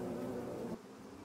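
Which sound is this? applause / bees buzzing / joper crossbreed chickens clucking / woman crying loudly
bees buzzing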